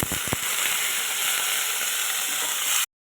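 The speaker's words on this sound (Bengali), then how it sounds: "ফোড়ন দেওয়া হয়ে গেল, এরপর আমি আলুগুলোকে এর মধ্যে দিয়ে দেবো।" Potato pieces sizzle loudly in hot oil tempered with black cumin seeds. A couple of sharp knocks come first, then a steady frying hiss fills the clip until it cuts to silence just before the end.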